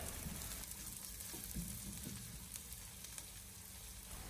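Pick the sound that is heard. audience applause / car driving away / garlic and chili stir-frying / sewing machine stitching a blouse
garlic and chili stir-frying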